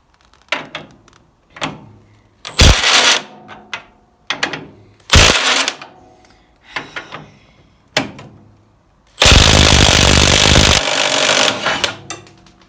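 A track rod end nut is undone on a Bolens HT23 garden tractor with a crowbar levered against the joint, giving close, irregular metallic clanks and wrenching bursts, a few longer grinding stretches, and a sustained loud rattling run near the end.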